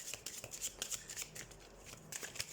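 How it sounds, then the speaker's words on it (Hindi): Tarot cards being shuffled by hand during a Scorpio reading, a run of quick, soft riffling flutters and light papery slaps, close and fairly faint with no talk. "सबसे पहले हम कार्ड शफल कर लेते हैं"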